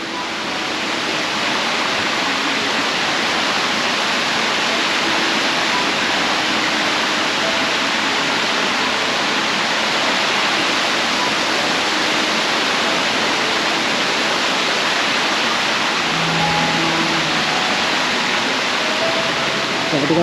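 Asupini Ella waterfall in Sri Lanka cascading down, a loud, steady, broadband roar of falling water that stays constant throughout, with faint tones and a brief voice near the end.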